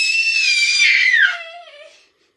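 A baby girl screams loudly and continuously in a high, sustained wail that breaks into a lower, wavering cry before trailing off into silence.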